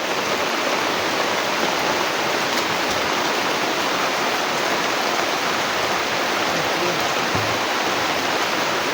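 Water boiling vigorously in a pot, a steady, dense bubbling hiss that runs unbroken and fairly loud from start to finish.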